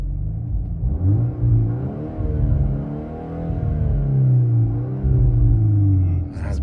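A new 2024 Volkswagen's engine revs up and down repeatedly from inside the car, rising and falling pitch sweeps with crackling burbles on the lift-off, loud and close.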